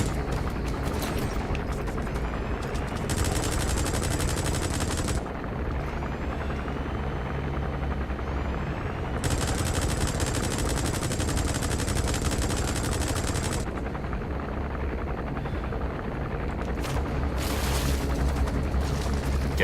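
Sustained automatic gunfire rattles in Metal Gear Solid V, mixed with a steady helicopter rotor drone and booms, loud and continuous, the bursts of fire coming in long stretches with brief gaps.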